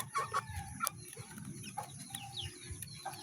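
Young native chickens about two months old clucking nearby, with soft repeated chirps and clucks over a busy low rumble of flock and farm noise.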